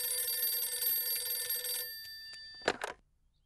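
A telephone rings with a long continuous electronic trill, then stops, followed by two short clattering knocks as the receiver is handled, with quiet room tone underneath.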